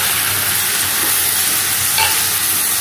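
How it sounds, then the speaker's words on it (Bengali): Banana stem frying in a pan and being stirred, giving a steady, close sizzle with light scraping of the spatula throughout, no voices. "থোরটা একটুখানি ভাজা করে নেব"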